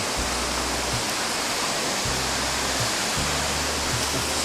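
Oehala waterfall on the slopes of Mount Mutis, Timor, pours in a constant broadband rush of falling water, close and steady, with a faint low hum in the background.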